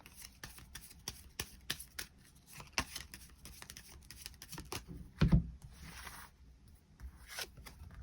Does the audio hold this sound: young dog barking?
no